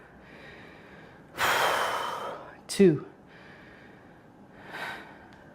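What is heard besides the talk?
heavy breathing during bicep curls workout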